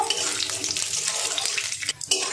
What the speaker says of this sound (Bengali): তেল গরম হয়ে গেছে, আমি বাদামটা দিয়ে দেব। বাদামটা একটু ভেজে নেব।